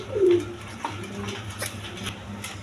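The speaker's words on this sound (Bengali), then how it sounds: "একদম বিগ সাইজের কবুতর" Big Lahori pigeons in a loft give a low cooing call near the start, followed by softer rustling and faint background coos with a few light taps, no talk.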